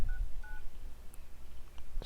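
Phone keypad dialing tones: a few short beeps tapped out at the start, quiet over a low background rumble with faint scattered taps.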